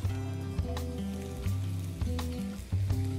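Chopped spring onions frying in hot oil in a pan on a gas stove: a close, continuous sizzle with a low hum underneath and occasional stirring knocks.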